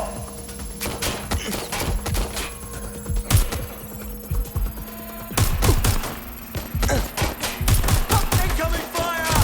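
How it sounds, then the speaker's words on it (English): Gunfire crackles through a Watch Dogs: Legion firefight, with dense bursts of rapid shots and single sharp cracks layered over a steady hum. The shooting comes in irregular clusters, loud and close, with faint voices underneath. "Suspect has opened fire!"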